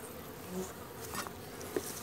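Soft, steady insect buzzing fills the background, a low continuous hum of many honeybees in an opened hive with a few faint clicks and rustles.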